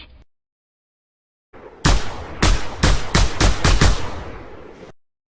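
About eight sharp gunshots ring out, loud and close, in an uneven rapid sequence over a couple of seconds, preceded by a quiet pause.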